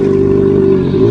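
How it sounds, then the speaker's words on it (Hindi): A sports motorcycle ridden up to a college canteen gives a loud, close, steady engine hum with a slight rising rev and no voices over it. "तभी अचानक एक बढ़िया स्पोर्ट्स बाइक पर सवार एक लड़का"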